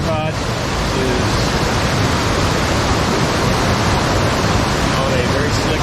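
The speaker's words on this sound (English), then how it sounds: "You can see all the rapids come down and really appreciate the character of these waterfalls" Waterfalls and creek rapids in a forested valley: a loud, constant roar of rushing water fills the scene evenly, with a faint voice briefly heard at the start.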